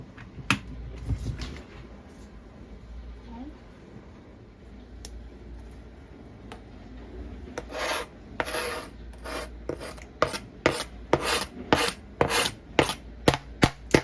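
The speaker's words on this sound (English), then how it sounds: "I'm gonna cut up a little garlic over here." Garlic being cut with a knife on a board: faint scraping at first, then a run of crisp, rhythmic chopping taps growing louder and quicker toward the end, close by.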